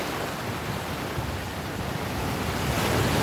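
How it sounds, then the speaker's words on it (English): Ocean waves crash and roll on a Hawaiian beach at Bellows Station, a loud, continuous roar of surf mixed with wind buffeting the microphone, with no voices. "I feel like I'm yelling because the waves are loud."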